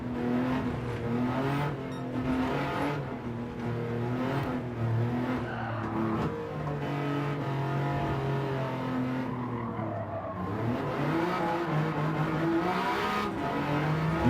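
Race car with a 3-cylinder engine in a racing video game, revving loudly and steadily through rising and falling gear pitches, with brief tire skids, playing alone.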